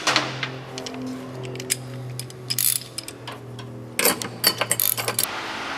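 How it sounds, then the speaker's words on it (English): A power tool tightening an Allen head bolt on a Platinum 4-inch oval step on a 2015 GMC Canyon, heard as a whirring motor hum with bursts of rapid ratcheting clicks and hammering, close by. "Take your impact. Tighten that down"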